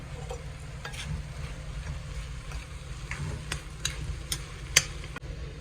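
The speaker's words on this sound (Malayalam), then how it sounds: "ഇനി നല്ല മിക്സ് ചെയ്ത് കൊടുക്കാം" A spoon stirs egg masala with a pinch of garam masala in a pan. Soft, steady scraping and faint sizzling run under a few light taps against the pan, with a sharper knock near the end.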